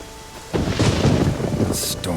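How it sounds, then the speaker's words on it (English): Thunderstorm in The Witcher 3 video game: a deep rumble of thunder rolls in after a quiet start and holds loud for over a second, with rain hiss and a bright crackling burst near the end. "A storm, damn it."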